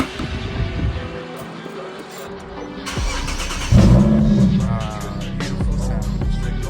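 A car engine revs hard in an engine bay, rising and falling in strong bursts before settling into a loud, steady rumble up close, with someone talking in stretches over it.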